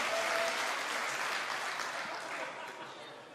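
A crowd applauds at a StarCraft 2 WCS Premier League 2015 semifinal, sustained clapping that fades slightly toward the end.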